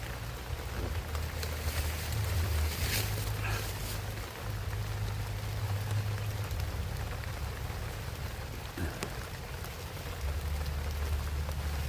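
Steady rain pours down on a surface, a dense, continuous hiss with low rumbling underneath that stays close and even throughout, with no voices.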